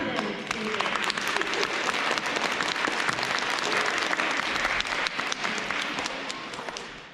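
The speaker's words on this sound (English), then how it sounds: "We clap for them." Applause at a K-2 school awards ceremony for a nominated kindergarten student, a dense crowd of clapping hands sustained throughout, with a faint voice briefly under it and a slight fade at the close.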